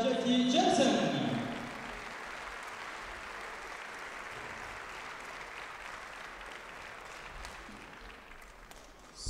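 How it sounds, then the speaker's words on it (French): A spectator crowd at a badminton tournament in Orléans bursts into loud applause, then the clapping quickly thins and fades into a quieter hall murmur that lingers to the end. "Merci d'applaudir Jonas Harvey Jensen et Cipisa Jackie Jensen."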